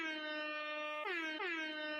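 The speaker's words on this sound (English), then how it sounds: "You got the air horn" An air horn gives a faint, sustained, harmonically rich blast that dips in pitch twice before holding steady.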